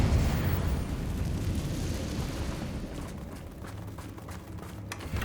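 A Confringo fire spell blasts in Hogwarts Legacy, a sustained booming explosion that fills the foreground, rumbling loudly and then fading slowly over several seconds with no voices.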